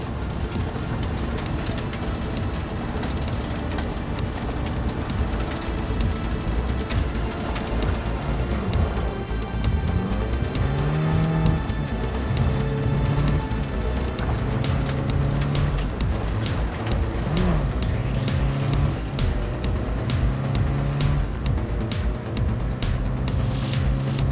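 A car drives through the streets of Cyberpunk 2077 with a constant engine hum and road roar, slight rises in pitch as it accelerates, while birds chirp and a light rain-like hiss fills the background.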